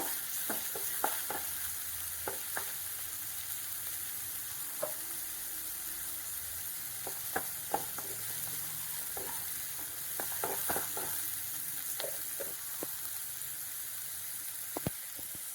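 Onions sizzle steadily in a hot pan for a potato snack, with scattered clinks and scrapes of a stirring spoon over a soft continuous frying hiss; no voices.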